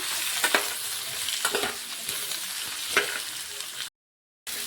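Onion and coriander leaves frying in oil for egg sambar, a steady hiss of sizzling with several scraping stirs of a spoon, close and fairly loud, ending in a brief silence.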